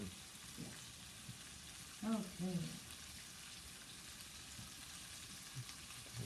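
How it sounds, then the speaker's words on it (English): Steak frying in a pan for Mongolian ramen beef, a steady broadband sizzle running throughout at moderate level, with a short burst of speech and clatter near the middle. "So she's frying up this steak, and this is called Mongolian ramen beef."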